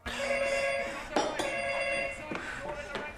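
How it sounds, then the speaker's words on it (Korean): A telephone-style bell rings in a tense home-robbery film scene, a sustained electronic ringing tone that repeats through the moment with voices speaking over it. "그때 또다시 벨이 울립니다."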